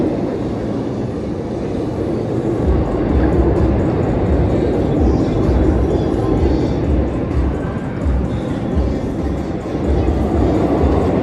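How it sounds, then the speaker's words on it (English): A roller coaster train launches at an amusement park during an employee test ride, a loud, steady rumble of wheels on track that runs throughout, with faint voices in the background. "they launched the second train with an employee on it too"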